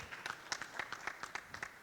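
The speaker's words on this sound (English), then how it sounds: "Please give applause for him." Light applause follows a keynote talk at an academic conference session in a hotel ballroom; sparse, uneven claps from a small audience, faint and brief.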